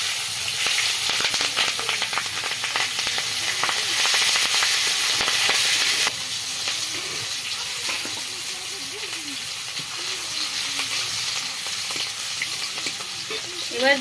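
Spices, chopped ginger and green chilli sizzling in hot oil for a rui fish curry, a steady dense crackle that runs throughout, loud and close, with a voice speaking over it at times.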